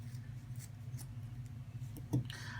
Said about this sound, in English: just cut off the excess